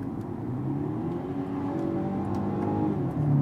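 The engine of a 2019 BMW M135i xDrive (F40) drones steadily under acceleration with a subtle shift through the gears, a continuous close, moderately loud engine note without speech.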